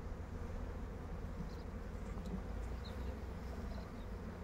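Honeybees hum in a dense, steady drone inside an open hive of eight frames during a colony inspection, the swarm close and continuous with no voices.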